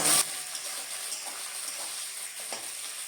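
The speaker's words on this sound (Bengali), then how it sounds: "পেঁয়াজগুলোকে হালকা একটু ভেজে নেব" Chopped onions and green chillies fry in a pan for a duck curry, a steady close sizzle after a brief louder burst at the start, with no talk.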